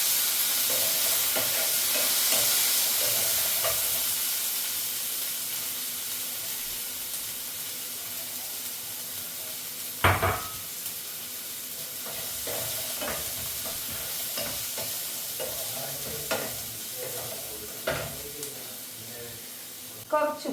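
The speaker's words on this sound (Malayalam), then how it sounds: "എന്നിട്ട് നമുക്ക് നിന്ന് സോട്ട് ചെയ്തെടുക്കാം." Onion, carrot, ginger and green chilli sautéing in a pan for upma, a steady soft sizzle and hiss with a few sharp clinks and scrapes of stirring, close and moderately quiet.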